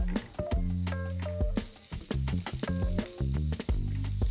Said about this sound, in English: I've got some thinly sliced garlic cloves. Saute these for a bit.